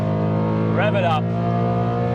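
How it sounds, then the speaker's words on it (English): BMW E92 M3 engine at the Nürburgring, a steady droning idle that swells into a brief rising rev and settles back, close by, with a person talking over it. "Rev it up."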